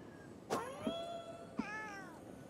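Cat meows in the video game Ghostwire Tokyo: two clear, fairly close meows about a second apart over quiet game ambience.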